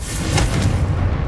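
In Hogwarts Legacy, a Confringo fire-blast spell goes off as a loud, close, heavy boom with a burst near the middle and a dense low rumble carrying through the whole short moment.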